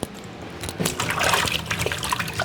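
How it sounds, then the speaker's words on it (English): Tap water running steadily while hands are washed after dusting stuffed chicken, a close, loud splashing rush with uneven gurgles and no talking. "Drop it, wash hands."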